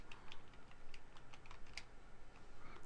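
Quick, light keystrokes on a computer keyboard enter a spreadsheet formula: a close, irregular run of soft clicks and taps over a quiet background.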